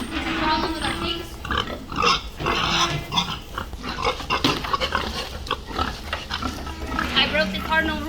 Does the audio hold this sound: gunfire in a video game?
no